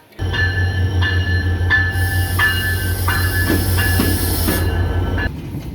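A passenger train runs on the rails, its loud steady low rumble paired with a rhythmic series of metallic clicks and a high hiss, heard up close with no voices.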